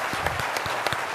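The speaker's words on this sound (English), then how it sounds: "let's give our distinguished panel members a big round of applause" Brief applause for panel members at a military conference, a steady wash of clapping from an audience with a few distinct claps standing out.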